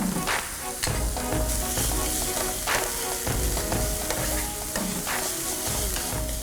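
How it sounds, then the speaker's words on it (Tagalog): Onion and garlic sautéing in a hot pan for Filipino beef tongue with mushrooms, a steady dense sizzle with faint stirring scrapes and clicks running throughout, close and fairly loud, with no voices. "Sunod na magigisa ng sibuyas at bawang."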